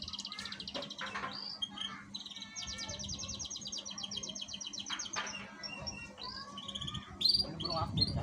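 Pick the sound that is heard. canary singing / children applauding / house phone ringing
canary singing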